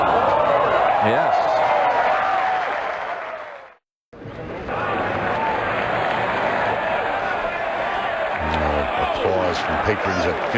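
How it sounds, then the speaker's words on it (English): Golf patrons applaud around the 15th green at the Masters, a steady, moderately distant clapping crowd that briefly cuts out and then resumes. "Applause from patrons at 15."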